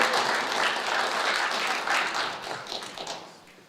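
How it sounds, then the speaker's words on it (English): An audience at a spiritual center service breaks into sustained applause, a dense wash of many hands clapping together that stays steady and then gradually tapers off near the end. "let's give them another round of applause"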